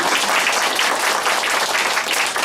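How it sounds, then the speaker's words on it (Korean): Applause from a conference audience at a business marketing talk, loud dense clapping at a steady level across the whole stretch, with no talking over it. "박수를 치려면 같이 하지."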